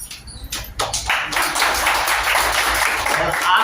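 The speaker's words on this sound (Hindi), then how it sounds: "आप सबकी कंसल ध्वनि तालियां बजती रहनी चाहिए" An audience at an event honouring a yoga teacher breaks into steady applause that builds after a few scattered claps and carries on thick and continuous to the end.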